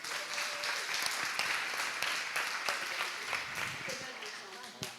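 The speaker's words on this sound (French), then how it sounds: "est-ce qu'on peut les applaudir ?" An audience at a French-language church service applauds two people, moderate continuous clapping with some voices mixed in, fairly faint and distant throughout.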